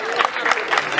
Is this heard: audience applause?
yes